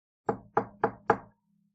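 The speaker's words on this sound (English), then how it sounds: "Suddenly, there is a knock at the door." Four crisp knocks on a door, evenly spaced and close, fall in quick succession before quiet, with no voices.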